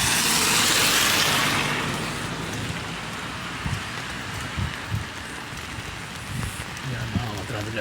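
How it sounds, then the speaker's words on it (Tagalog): Steady rain falls on a house roof in Birkirkara, Malta, a dense, even hiss with scattered heavier drips and a few low thumps, louder at first and then settling. "Patak na naman ang ulan sa bubong ng bahay."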